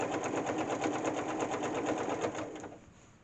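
Quilt binding runs under a sewing machine with steady, rapid stitching, close and even, that slows and fades out near the end; no one speaks.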